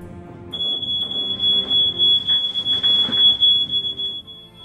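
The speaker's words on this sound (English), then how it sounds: "Smoke alarms provide early warning," A smoke alarm sounds a continuous high-pitched electronic tone, loud and close, holding steady for several seconds before cutting off.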